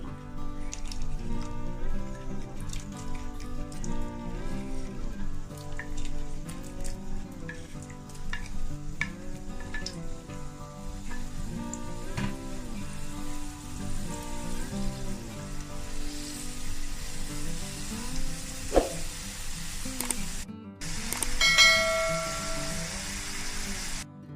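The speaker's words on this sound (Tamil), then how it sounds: "திரும்ப எடுத்து ஃப்ரை பண்ணிக்கலாம்" Potato French fries deep fry in hot oil, giving a dense, continuous bubbling sizzle with occasional stirring scrapes close by, steady throughout until a brief break near the end.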